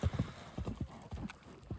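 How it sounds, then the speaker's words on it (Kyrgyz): A horse at a Kyrgyz ulak (kok-boru) event walks on hard ground, its hooves clip-clopping in a steady uneven rhythm, close and fairly quiet, with faint voices in the background. "Атты көрөсүздөр."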